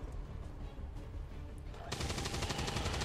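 Rapid bursts of automatic gunfire erupt in XCOM 2: War of the Chosen after a quiet stretch, a sharp dense rattle filling the last second and a bit, with faint game ambience before it.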